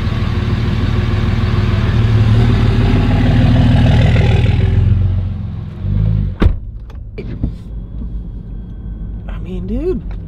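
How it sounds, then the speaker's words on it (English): Diesel work truck idling while rolling coal, a loud steady low rumble that fades after about five seconds, followed by a few sharp clicks and quieter mechanical sounds. "It sounds pretty good. It's rolling coal right now."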